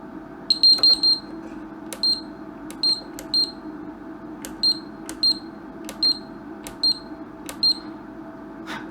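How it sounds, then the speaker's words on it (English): A Deep Sea generator control panel sounds its alarm in short repeated high beeps, clustered and irregularly spaced, clear and close over a low electrical hum. "And just silence these couple of alarms."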